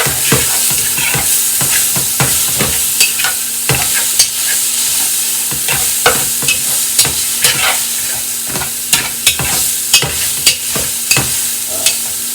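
Italian sausage sizzling steadily in a pan while a utensil breaks it apart, with repeated sharp scraping taps at an uneven pace close up.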